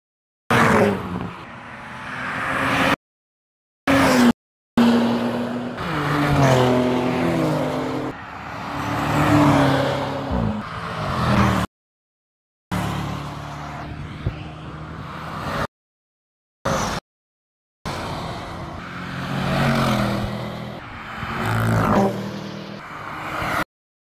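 Prototype cars testing at the Nürburgring race past one after another, engines rising and falling in pitch as they accelerate and shift, with brief breaks of silence between passes and no talk.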